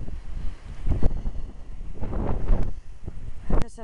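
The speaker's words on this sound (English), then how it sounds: "It's always very blowy up there." Gusty wind on a hilltop by a church and beacon buffets the microphone in a rumbling, uneven roar, close and fairly loud throughout.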